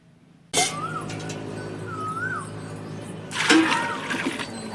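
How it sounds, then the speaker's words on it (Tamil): After a brief silence, water pours steadily onto rice in a large pot for mutton biryani, a continuous close gush that grows louder and splashier near the end. "இப்போ அரிசி போட்டு நான் சொன்ன அளவில் நம்ம தண்ணி ஆட் பண்ணிக்கலாம்"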